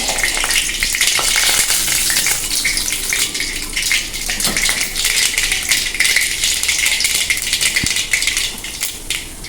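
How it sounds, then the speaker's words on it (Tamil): Mustard seeds pop and splutter in hot oil at the start of a tomato rasam, a loud, dense crackle of sizzling with scattered sharp pops close by and no speech. "கடுகு போட்டாச்சு. கடுகு நல்லா பொரியணும்"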